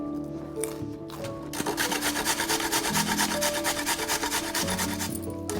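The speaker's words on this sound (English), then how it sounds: "With carrot, the quickest way to do it is to grate them." Carrots being grated by hand, a fast regular rasping stroke repeated close up, starting after a quiet moment and continuing steadily with slight pauses between strokes.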